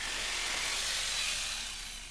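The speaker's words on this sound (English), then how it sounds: "Then with the jigsaw, cut down the length of the board." A jigsaw cuts lengthwise along a wooden floorboard, giving a steady, unbroken buzzing rasp close by that eases off slightly near the end. No one speaks.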